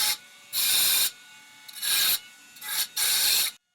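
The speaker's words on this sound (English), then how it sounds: "now we need to remove the leftover welds and the tube remnants in those areas." Grinding off leftover welds and tube remnants on a steel cargo bike frame, in four loud bursts of harsh abrasive rasping with short quiet gaps between them.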